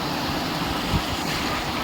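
Sea waves washing ashore on the beach at Digha, a steady broad wash of surf with a slightly stronger surge near the middle, under wind noise, no voices.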